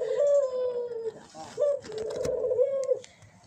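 Turtle doves cooing nearby in long, wavering moan-like calls, several in succession, with a voice briefly present between them.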